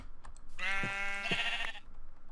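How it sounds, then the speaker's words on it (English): A single sheep in the Minecraft video game bleats once, a clear, close, wavering cry of about a second, with faint clicks before and after. "Now there were sheep here."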